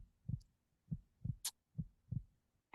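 A soft electronic tone from a heart rate monitor pulses steadily, imitating a heartbeat with evenly spaced low thumps, quiet and alone with a brief click.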